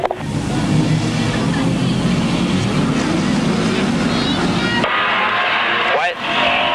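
Super sedan race cars roar off the line at the start of a heat at Newcastle Motordrome in 1979, a loud sustained wall of engine noise that drops back as the pack pulls away.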